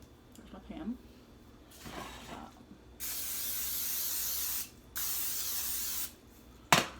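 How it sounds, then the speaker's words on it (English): A can of Pam cooking spray hisses onto pans in two steady bursts of about two seconds each, with a short spritz afterward, preceded by soft kitchen handling noises. "I'm going to spray both pans with Pam."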